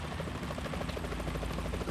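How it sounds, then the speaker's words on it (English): Rapid rhythmic thudding of helicopter rotor blades in Metal Gear Solid 2: Substance, steady and fairly faint, with a dense mechanical drone underneath. "Is that a chopper I just heard?"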